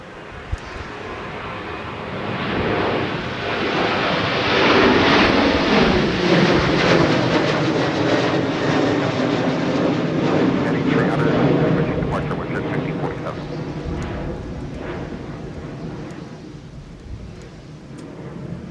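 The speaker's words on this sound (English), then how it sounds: "Departing for Edmonton, it's WestJet 1547 with a 737-700." A WestJet Boeing 737-700 departs in gusty crosswind conditions, its jet engines building to a steady loud roar that lingers and gradually fades, with a voice talking over it.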